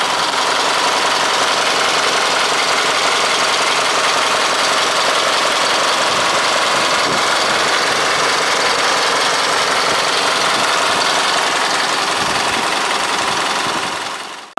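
The diesel engine of a 2007 Isuzu Elf garbage packer truck idles loudly and steadily up close, a continuous rumbling drone with a rhythmic knock, until it fades out at the very end.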